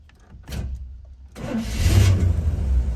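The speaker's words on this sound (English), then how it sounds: "We're going to start up our 81 Chevy C10." A 1981 Chevrolet C10 pickup cranks briefly, then its engine catches and settles into a loud, close, rumbling idle.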